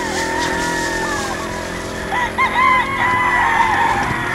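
Rooster crowing at a poultry farm on a hilltop, several drawn-out calls from fairly close, layered over steady background noise with other birds calling.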